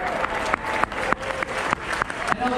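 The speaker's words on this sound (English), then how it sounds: "How about a big round of applause for this mighty orchestra right here," Audience applause for an orchestra at a captain's reception aboard a cruise ship, a crowd clapping steadily with a few sharper individual claps standing out, lasting the whole stretch.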